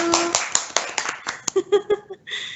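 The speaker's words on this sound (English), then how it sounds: "So a round of applause to all of us." Closing a training session, a small group claps in scattered, uneven bursts, with light laughter and voices mixed in; the claps thin out and a voice talks near the end.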